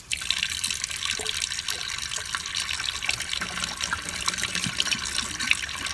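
Tap water runs steadily into a small water bottle as it is rinsed out at a sink, a close, continuous splashing gush with no talk.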